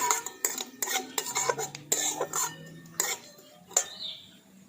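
A utensil stirs and scrapes half-crushed fennel seeds and a pinch of asafoetida frying in a pan, for moong dal kachori, giving sharp metallic clinks and knocks in an irregular rhythm over a faint low sizzle, close by.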